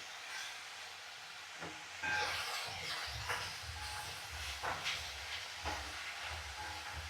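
Cabbage, tomato and peas cook in a pot with a soft, steady hiss of steam and faint sizzling that runs throughout, with occasional light stirring bumps and no voices.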